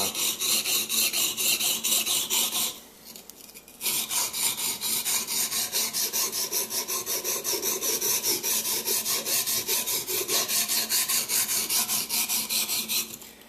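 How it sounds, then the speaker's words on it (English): A knife is sharpened on a sliding sharpener in steady, rapid back-and-forth rasping strokes, loud and close, with a brief pause near the start before the scraping resumes. "the more you can slide this thing back and forth, the more surface area you have to work on, the easier it makes this job, especially when you're sharpening a knife"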